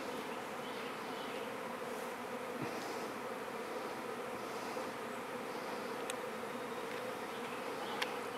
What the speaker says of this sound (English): Got a hive on the deck there. And the swarm has just arrived.